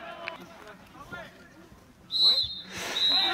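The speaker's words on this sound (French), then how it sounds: "Et c'est sifflé, fin du match." A referee blows the final whistle at an amateur District 3 football match in Dordogne: a short shrill blast, then a longer one, loud above background voices.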